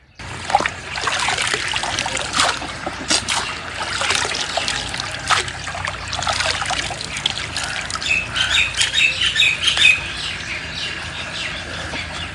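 Water runs along a canal near a desert village, a steady rushing trickle and splash heard up close, with birds squawking and chirping over it.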